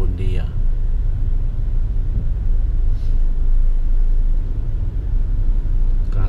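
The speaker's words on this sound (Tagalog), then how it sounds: "Traffic." Heavy road traffic on the way to Makati makes a steady low rumble of car engines heard from inside a vehicle, with a brief voice at the start.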